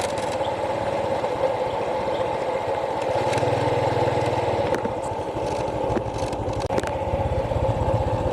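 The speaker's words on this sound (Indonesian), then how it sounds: "kami coba keliling sedikit pakai motor" A motorcycle rides around the open yard of a traditional Minangkabau village house, its engine humming steadily and close throughout with slight changes in pitch.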